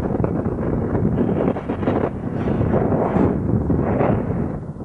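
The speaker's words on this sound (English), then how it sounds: "there's a bit of a wind" Wind buffets the microphone on an ocean rowing boat during an Atlantic crossing, a loud, continuous roar with a rumbling low end and gusty swells in intensity, no voices.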